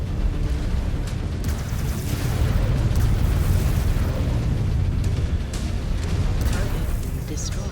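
A mech blows apart in a rumbling explosion in MechWarrior 5, a loud, sustained low roar with crackling bursts layered on top, while voices talk over the blast.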